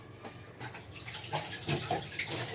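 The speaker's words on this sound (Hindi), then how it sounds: "एक मिनट हाथ धो लेने दो" Running tap water splashes over hands being washed at a kitchen sink while a tofu dish is prepared, a steady close hiss with small splashy bursts and no talk.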